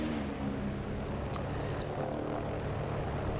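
Propeller engine drone of a bomber aircraft in a video game, a steady broad rumble with faint engine tones, continuous and fairly loud throughout.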